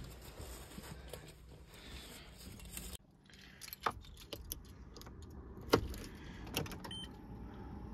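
Car keys jangling close inside a Citroën Berlingo before an attempt to start it, with a few sharp metallic clinks and rattles over a faint background hum, no voices.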